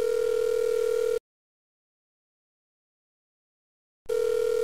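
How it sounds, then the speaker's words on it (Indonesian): A telephone ringback tone heard while placing a call: two steady electronic beeps, each about a second long, separated by roughly three seconds of silence, clear and close. "Sebelum telepon Uus, gue telepon Diki dulu deh."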